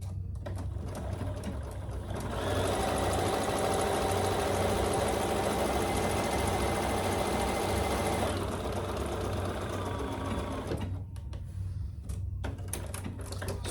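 A sewing machine stitches down the sides of a fabric tote strap in one continuous run of rapid, even mechanical whirring and clatter lasting several seconds, with quieter handling noise before and after.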